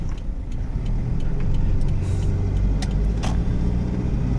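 A Toyota Fortuner with a three-litre engine hums low and steady from inside the cabin on a test drive, with road rumble and a few faint clicks and rattles, no one speaking.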